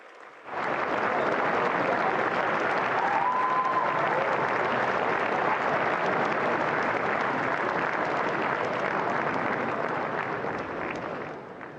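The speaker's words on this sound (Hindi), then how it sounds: "तालियों की गड़गड़ाहट से स्वागत करें" Sustained audience applause fills an auditorium at a youth leaders' dialogue event, a dense, steady roar of many hands clapping that swells in quickly and holds for about ten seconds before easing slightly.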